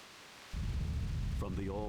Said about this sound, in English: one day, a terrible storm beset the village.